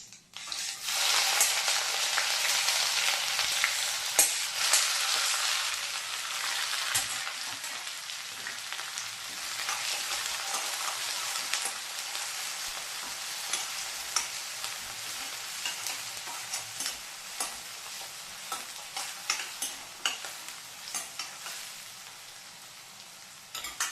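Chopped onion, green chili, curry leaves and coriander fry in a pan with a dense, steady close sizzle and crackle, broken by occasional stirring scrapes and sharp pops, and no voices.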